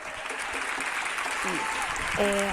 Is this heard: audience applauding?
yes